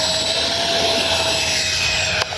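A Freewing 80mm A-10 radio-controlled jet makes a low flying pass, its electric ducted-fan whine steady and loud with a sustained high tone throughout, no talking.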